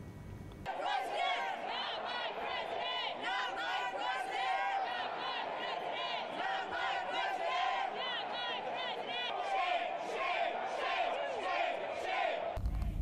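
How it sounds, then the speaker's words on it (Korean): Protesters crowd the streets around Trump Tower in Manhattan, booing and jeering at President Trump in a dense, continuous roar of many voices with rising shouts, heard close and loud throughout. "트럼프 타워 주변에는 트럼프 대통령을 반대하는 시위 행렬이 이어지고 야유가 쏟아졌습니다"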